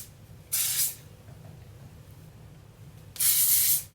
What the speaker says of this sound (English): spray your hair with a heat protectant